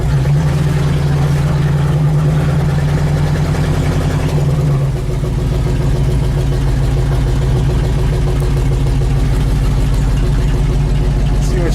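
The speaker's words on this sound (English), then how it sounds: "She idles better." A car engine idles close by with a loud, steady low rumble, and its tone shifts and roughens slightly partway through.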